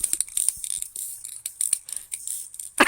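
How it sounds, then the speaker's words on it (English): Squeaky chair creaking in a quick irregular series of sharp, high squeals and clicks, close and fairly quiet, with no voices. "I'm squeaking on my chair"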